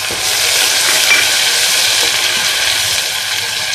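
Ginger garlic paste fries in a pan over golden-brown onions, giving a loud, dense, continuous hiss of sizzling oil with no talking.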